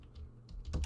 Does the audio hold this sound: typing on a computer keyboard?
yes